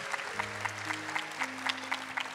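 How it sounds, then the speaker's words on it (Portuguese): Rhythmic clapping from a group, steady and moderately faint, over sustained organ-like tones in a reverberant space during a Chaplet of Divine Mercy prayer service. "Uma salva de palmas aos irmãos que vieram rezar."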